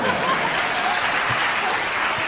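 A short burst of audience applause after a Fauré violin sonata performance, steady clapping from a crowd filling the concert hall.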